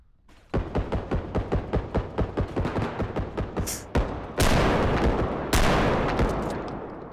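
Video game gunfire in an ultra-realistic shooter: a rapid, evenly spaced string of loud close shots for several seconds, then two heavier booming blasts that ring out and decay.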